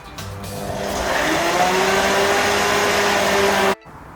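An electric mixer whirs steadily through orange polenta cake batter, a loud continuous motor hum building up briefly and then cutting off sharply at the end.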